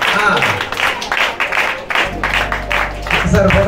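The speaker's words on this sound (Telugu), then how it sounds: "చప్పట్లు." An audience applauds at a church gathering at an orphanage in India, short bursts of clapping mixed with people talking nearby.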